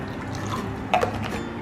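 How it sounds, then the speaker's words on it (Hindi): Water is poured into a small kitchen container to test whether it leaks, a short quiet splash and trickle with a brief burst of pouring near the middle. "इसमें ना पानी डाल के देखते हैं कि ये लीक प्रूफ है कि नहीं"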